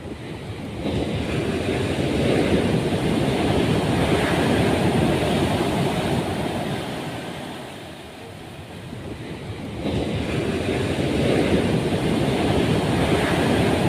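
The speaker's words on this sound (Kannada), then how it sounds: "ಆಳೆತ್ತರದ ಅಲೆಗಳು ತೀರ ಪ್ರದೇಶಕ್ಕೆ ನುಗ್ಗುತ್ತಿರುವುದರಿಂದ" Rough, rain-whipped sea surging onto the shore at Bhatkal, a loud continuous roar of breaking waves that swells, eases briefly near the middle, then rises again, with no voices.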